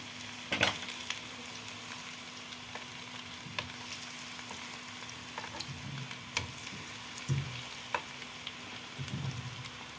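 Cauliflower frying in a pan, a soft continuous sizzle with occasional gentle clinks and scrapes as pieces are turned over, fairly quiet and close with no talking.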